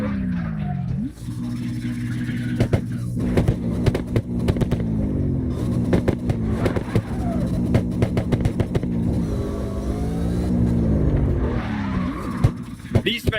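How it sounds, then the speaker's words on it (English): Cars drifting in the CarX Drift Racing Online video game, with loud sustained engine revving that rises and falls and tire squeal all the way through, and a voice talking over it. "We're driving cars from the movie Cars,"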